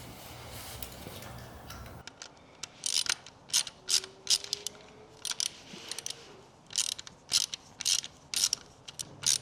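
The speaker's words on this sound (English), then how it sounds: "Now we are going to grab our 1/4" drive ratchet, our Torx bit, T30 again" A 1/4 inch drive ratchet with a Torx T30 bit and extension clicks in quick bursts while working around bolts on an MV Agusta F3 800 motorcycle, close, crisp repeated ratcheting with short pauses between strokes.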